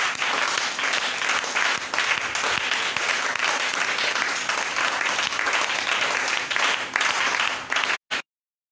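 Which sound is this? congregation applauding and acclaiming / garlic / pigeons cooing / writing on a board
congregation applauding and acclaiming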